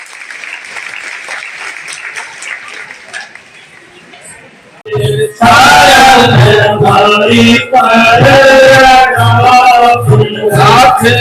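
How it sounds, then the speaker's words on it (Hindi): At a Holi gathering honouring donors at a religious ashram, moderate clapping rises for several seconds, then is cut off by loud music with a strong melodic voice that takes over the rest. "जोरदार तालियां इनके लिए।"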